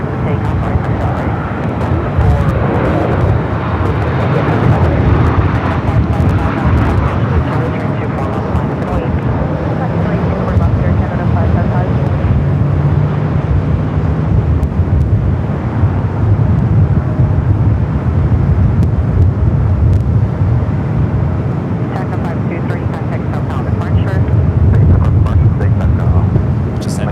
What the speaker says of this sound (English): Just any Southwest flight coming from El Paso, Texas. Touching down to 24 right